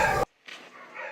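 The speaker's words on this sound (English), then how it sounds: "The audio clip featured faint sounds of whimpering dogs in the background" Dogs whimpering in a played recording, short faint whines and yips after a brief loud burst, heard at a distance with no talk.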